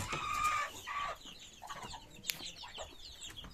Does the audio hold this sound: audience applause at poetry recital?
no